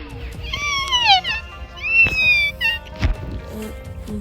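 A cat meows several times in drawn-out, rising and falling calls, fairly close and clear, with light knocks and faint background noise between the calls.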